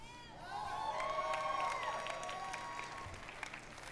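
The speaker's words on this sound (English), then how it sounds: "One person clapping in this entire audience." Audience applause at the Bethesda E3 2018 press showcase, a broad wash of clapping and some cheering from a large crowd that swells quickly, holds steady, then tapers slightly, heard from a distance.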